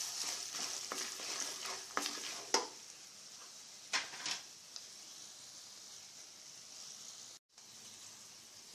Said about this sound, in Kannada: ಈಗ ನಾನು ಈ ಮಂಡಕ್ಕಿನ ಹಾಕ್ತಾ ಇದ್ದೀನಿ. ಇದಕ್ಕೆ ಹಾಕಿ ಚೆನ್ನಾಗಿ ಸ್ವಲ್ಪ ಲೋ ಫ್ಲೇಮ್ನಲ್ಲಿ ಸ್ವಲ್ಪ ಇದು ಹುರ್ಕೊಳ್ಳೋಣ